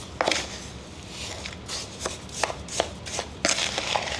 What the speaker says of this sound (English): Now I'm gonna go in here and continue to mash these strawberries.